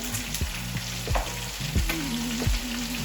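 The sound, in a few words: onions frying in a pan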